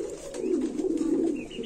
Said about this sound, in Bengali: এগুলা এখনই ভাই হালকা হালকা কোকার ডাক ফুটে